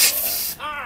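A beer keg sprays as it is opened, a loud rushing hiss of pressurized liquid and gas bursting out, then easing into a softer fizz.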